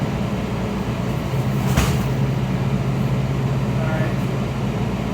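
Kawasaki 7000 Series Metrorail subway train riding between stations, a steady loud rumble of wheels and motor with low hum throughout and a brief burst of noise partway through.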